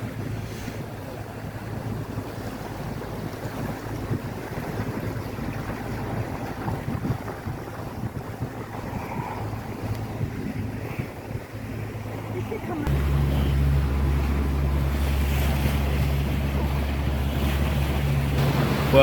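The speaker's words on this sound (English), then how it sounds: "we're sailing through the straits that adjoin Corfu to Albania" A boat sails through the sea straits between Corfu and Albania, with wind buffeting and water wash filling the scene and a low engine hum growing heavier partway through.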